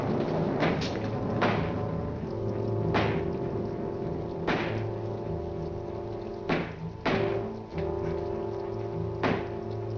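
Knocking at the front door of an old house during a storm: a handful of separate dull thumps land irregularly under a steady rainy hiss and low hum, somewhat distant and muffled.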